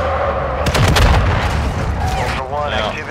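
Gunfire in a military team video game: heavy booming shots and rattling bursts crowd the first half, loud and close, while bits of radio-style chatter and voices run through the rest.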